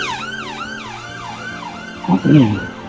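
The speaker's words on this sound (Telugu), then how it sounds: "అంబులెన్స్ పోతుంది చూడండి." An ambulance siren passing along a London street near Portobello Market, its wailing tone sweeping up and down repeatedly and fairly loud, with a brief burst of traffic or crowd noise near the end.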